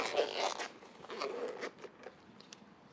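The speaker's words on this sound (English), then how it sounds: "We've got 2 zippers on here. Let's go ahead and open this up." Zippers pulled open on a hard shell game controller case, a short run of scratchy, crackling zip strokes up close followed by quieter rustling and small clicks.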